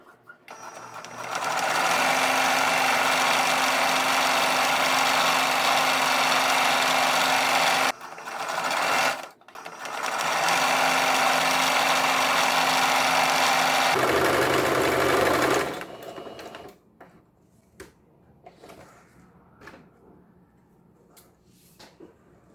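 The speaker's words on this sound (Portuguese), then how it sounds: "E vamos costurar toda a volta." A sewing machine stitches around the edge of fabric for an Easter bunny-ear hand towel, with two long steady runs of rapid mechanical whirring separated by a brief pause, then stopping and leaving faint handling sounds.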